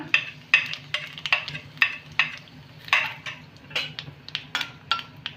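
Spoon scraping and tapping a pan as asafoetida and cumin seeds fry in hot oil, a dozen or so sharp, close clinks at an uneven pace over a faint low sizzle.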